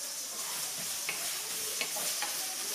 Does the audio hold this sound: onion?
yes